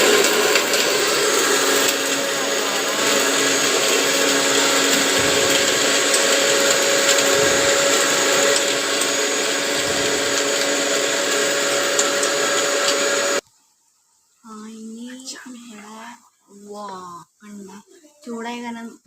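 A kitchen mixer grinder grinding batter in a Kerala home, a loud steady whine that runs for about thirteen seconds and then stops abruptly, followed by someone talking in the quiet room.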